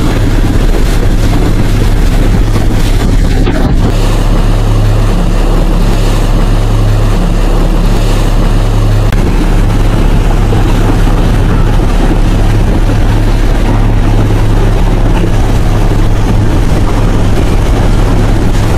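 Small boats move along a flooded river in a Vietnamese village, carrying food supplies. A loud, constant engine drone mixes with wind buffeting and rushing water, with no pause for the whole stretch.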